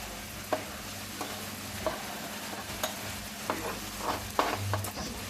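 Jamaican mince beef with sweet peppers, tomato, onion and scallion being stirred in a frying pan, a steady sizzle with soft periodic scrapes and clacks of the spoon, close and alone.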